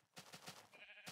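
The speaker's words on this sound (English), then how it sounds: "Brown sheep" Sheep in Minecraft Beta 1.7.3 bleat in a short, quiet wavering call with several pulsing beats, close and isolated.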